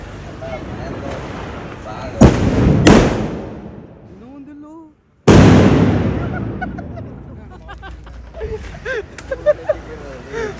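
Diwali firecrackers go off during 2025 celebrations: a few sharp, loud bangs ring out with long decaying tails, separated by pauses, while people talk nearby.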